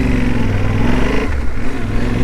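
A motorcycle in Paraguay, never homologated, revs loudly and close by, its engine note rising and holding strong, then dipping briefly midway before picking up again.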